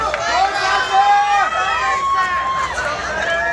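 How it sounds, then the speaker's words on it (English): An audience cheers and shouts at a giant udon noodle eating competition at TsuruTonTan, a loud, sustained crowd roar with whoops and a host talking over it. "Audience, make some noise! Yes! Cheer for your favorite contestant."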